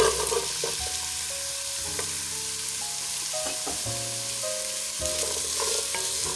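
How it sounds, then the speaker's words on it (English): Carrots sauté with celery in a pan for cabbage soup, sizzling steadily up close while a utensil stirs and scrapes, adding intermittent clinks and knocks over the frying. "And let that saute for a couple minutes."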